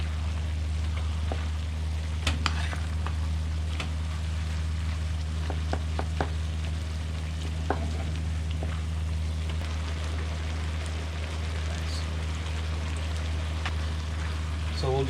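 A pork empanada filling sauce simmers and reduces in a pan, giving a soft, steady bubbling sizzle with scattered small pops over a low hum while a person talks nearby.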